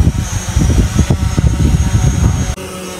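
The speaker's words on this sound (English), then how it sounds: "Yung drone nasa harap ko." A drone hovers close by at a farm restaurant, its steady propeller whir loud and continuous with rapid fluttering pulses, cutting off abruptly near the end.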